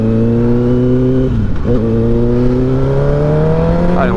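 A Kawasaki ZX10R motorcycle engine revs loud and close, its pitch climbing steadily, dipping once during a shift, and then rising again toward high revs, with no voices.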